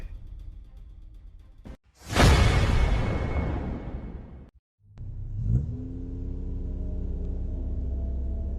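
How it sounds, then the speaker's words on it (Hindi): A car drives along a deserted night road in a horror story sound effect: a loud whooshing pass rises sharply, cuts out briefly, then the engine returns as a steady, rising rumble. "सुनसान सड़क पर राजेश और सुजीत गाड़ी ड्राइव करते हुए जा रहे थे।"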